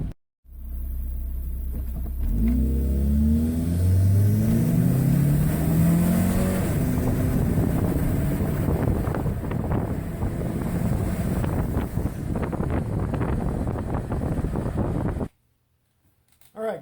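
A tuned Saab 9-3 with a Stage 2 ECU tune pulls away and accelerates hard through several rising gear sweeps. Heavy wind rumble runs over the engine noise until it cuts off sharply near the end.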